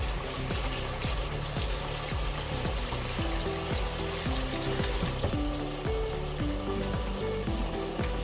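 Steady rushing cold water pours onto drained pasta without a break, a continuous splashing hiss with a rhythmic low churn underneath, close by.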